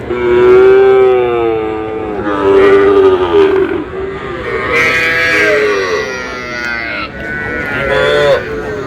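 Small bulls and heifers at a Kurigram livestock market moo in four long, loud, drawn-out calls, close and strong, with no talk over them.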